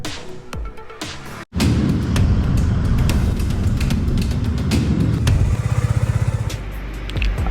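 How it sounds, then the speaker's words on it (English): A Kymco Spade 150i motorcycle engine starts up after a brief pause and idles steadily nearby, with a loud, continuous low rumble and a faster pulsing putter toward the end. "Let me turn on the key."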